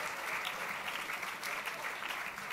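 Audience at the 2016 Writers Guild Awards applauds the Daytime Drama nominees, a steady dense wash of clapping from a large crowd that holds at an even level throughout.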